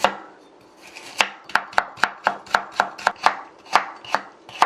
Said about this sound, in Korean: 당근은 살짝 어슷썰기 해서 채 썰어주세요.